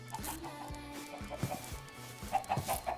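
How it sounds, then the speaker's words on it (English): Chickens cluck in the Minecraft RLCraft game, giving short repeated clucks and squawks at moderate volume. Soft game ambience plays in the background, with no talking. "Let's go feed the chickens."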